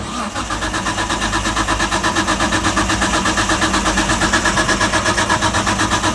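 A Nissan R32 with a blown motor cranks over and over without catching, the starter churning in a fast, even rhythm, loud and close throughout.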